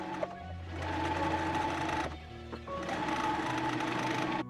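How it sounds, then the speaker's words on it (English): Sewing machine stitching together the pieces of a Cinderella princess dress, running in two sustained, steady bursts with a short pause between them, close and fairly quiet, with no talking. "now it's time to stitch the pieces all together"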